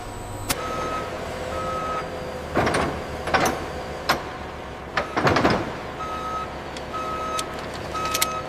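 Truck reversing beeps repeat in a steady, evenly spaced pattern at a factory loading area, carrying across the whole stretch over a background hum, broken by louder clanks and door slides.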